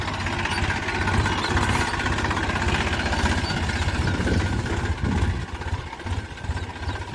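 A blue Massey Ferguson 245 DI tractor engine runs steadily in a farm field, a loud, continuous diesel idle with rhythmic low thumping and no voices.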